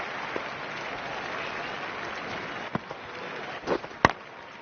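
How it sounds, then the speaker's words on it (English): Virtual stadium crowd applauding in the PS4 cricket game Don Bradman Cricket 14 during a T20 Pakistan versus India match, a steady wash of clapping heard alone that swells briefly near the end with a few sharp peaks. "The crowd applaud."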